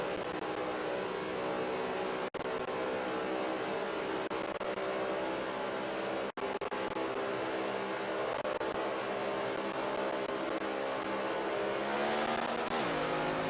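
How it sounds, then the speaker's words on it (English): NASCAR race car engines revving at Indianapolis Motor Speedway in a racing video game. A loud, continuous droning roar holds throughout with two brief dropouts, and the pitch climbs sharply near the end. "They're revving those engines."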